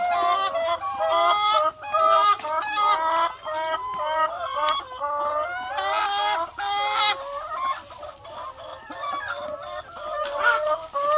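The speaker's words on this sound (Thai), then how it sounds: "ไก่จะไม่กลัวคนเลยนะเนี่ย" Laying hens crowd around a person and keep up busy, overlapping clucks and squawks from several birds nearby, with no talk.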